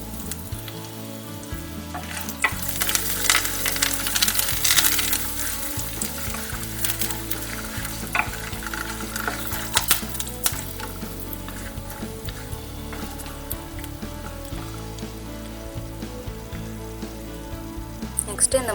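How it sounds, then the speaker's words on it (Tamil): Red chillies, curry leaves and asafoetida sautéing in oil in a pan for tamarind rice, a steady crackling sizzle with occasional stirring scrapes, close and continuous throughout. "இதை ஒரு தடவை நல்லா வதக்கி விட்டுக்கலாம்."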